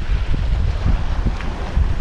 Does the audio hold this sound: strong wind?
yes